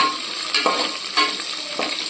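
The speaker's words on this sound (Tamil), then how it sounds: "4 பச்சை மிளகாவும் போட்டு வதக்கிடலாம்." Green chillies and cashews sauté in a hot pan, a steady close sizzle with brief louder bursts each time the pieces are stirred, no voices.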